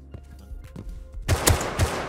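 A semi-automatic rifle fires in the video game Rust, several loud, close shots cracking in quick succession after quieter game sounds.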